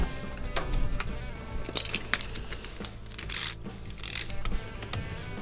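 Hand tightening of the nut that holds the blower wheel on a GE dryer's blower motor shaft: soft intermittent metallic ticks, clicks and small clanks from the wrench and parts, close by and fairly quiet, with no speech.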